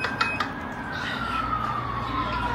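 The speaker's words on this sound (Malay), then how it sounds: "Ambulans." A siren wails with a long, slowly falling tone that carries through steady low traffic rumble, continuous and moderately loud for the whole stretch.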